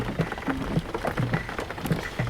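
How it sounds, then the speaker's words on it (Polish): Steady rain patters continuously in the car-driving video game Jalopy, a dense hissing wash with faint low thuds recurring underneath, with no talking. "włączę wycieraczki, bo deszcz pada"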